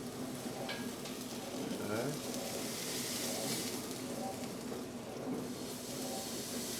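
Beef tri-tip sizzles steadily on an indoor smokeless grill right after being flipped with a spatula, a continuous close hiss with faint scraping and some brief background voice.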